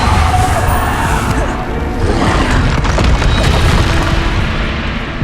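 A Depulso spell blast in the video game Hogwarts Legacy, a loud, heavy booming burst with crashing rumble that fills the whole moment, with a voice calling out over the noise.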